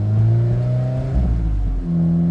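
A 2017 Alfa Romeo 4C Spider driving over broken pavement, a loud droning engine note with strong low harmonics that dips and shifts pitch briefly before settling again, close up and without voices.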